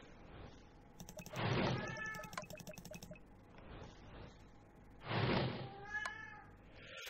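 A cat in the room meows twice, loud and close, with harmonic wails around 1.5 and 5.5 seconds, while faint keyboard typing and clicks continue softly between the calls.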